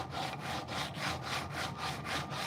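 Hand saw cutting a chamfer along the edge of a wooden box lid, a steady run of about eight rhythmic back-and-forth rasping strokes, close and clear with no talking.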